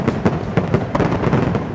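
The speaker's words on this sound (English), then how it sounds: "They were doing the fireworks and they had other things blowing up." Fireworks explode at Epcot in a dense, loud barrage of crackling, popping bursts heard from very close by, with no talking.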